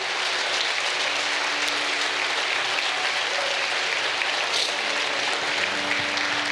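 Congregation applauding in a church during an evening Sunday service, a steady dense wash of clapping that holds evenly for the whole stretch with no voices over it.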